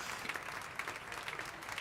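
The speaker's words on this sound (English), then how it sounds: "Does that just never end, the clapping?" Canned clapping from a push-button applause sound effect plays after a gift card winner is announced, producing a thin, continuous patter of claps at moderate volume with no voices over it.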